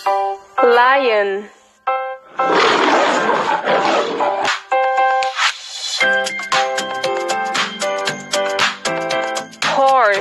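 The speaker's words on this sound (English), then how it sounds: "Lion." A deep lion roar rises out of a busy, loud mix of other sounds, with sweeping harmonic calls and bright tonal bursts layered around it.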